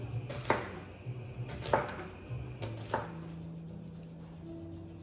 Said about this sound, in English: take my peeling off and just chop it up